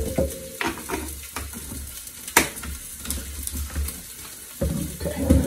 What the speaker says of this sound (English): I'm going to go ahead and saute off these onions, get them browned a little bit